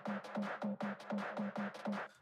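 A delayed, saturated and filtered synth layer from the Sigmund preset Horse, pulsing in a steady repeating rhythm with smeared echoing tails, moderately quiet and unbroken, with no voices.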